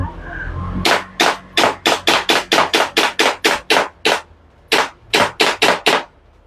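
A JWC Combat Master airsoft gun fires a rapid series of about nineteen sharp, loud cracks at close range in quick rhythmic bursts, with a short pause before the final group.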